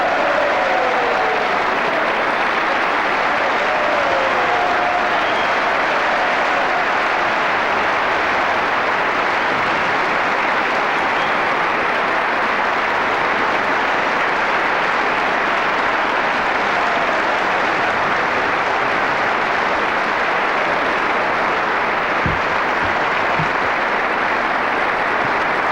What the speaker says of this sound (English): Any moment now, you will hear the mad applause.